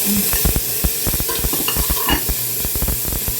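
Tomatoes dropped into a pan of mixed vegetables frying for an oyster sauce stir-fry, giving steady close sizzling with repeated sharp scraping and stirring clicks throughout, no voices.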